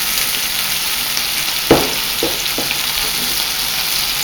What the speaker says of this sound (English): I'm going to add a little bit of wine, white wine,